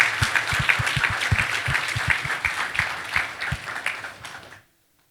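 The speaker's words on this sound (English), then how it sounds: "and that deserves a clap" An audience at a fireside chat event bursts into sustained applause with sharp individual claps over a dense crowd wash, holding steady for several seconds before cutting off abruptly.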